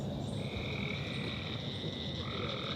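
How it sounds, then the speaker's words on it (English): Frogs croak at night in Bernheim Forest and Arboretum, a dense chorus of throaty calls with sustained trilling tones overlapping continuously, close and fairly loud, with no talk. "the bird songs of the day slowly shifted to the throaty frog calls of the night"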